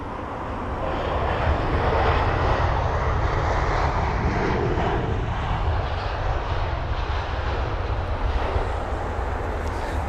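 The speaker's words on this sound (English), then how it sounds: "The current engine option, much louder than the Neo, the new engine option aircraft." Loud, rumbling roar of an Airbus A320ceo jet airliner passing nearby at London Heathrow, a deep steady drone with a broad whooshing hiss that swells slightly and holds.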